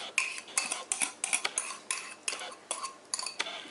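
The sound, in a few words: pouring béchamel mixture into hot milk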